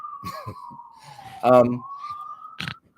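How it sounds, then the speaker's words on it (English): A wailing siren sweeps steadily through the street scene, with brief voices and a loud burst of nearby talk cutting over it. "Can you hear the sirens?"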